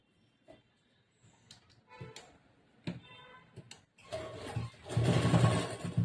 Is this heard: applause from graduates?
no